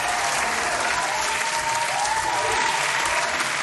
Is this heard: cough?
no